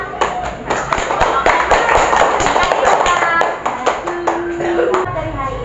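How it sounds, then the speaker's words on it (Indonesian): Schoolchildren in a primary school classroom clap their hands in a quick rhythmic pattern, sharp crisp claps in bursts, with voices and a brief tone sounding over them. "Baris, tepuk tangan."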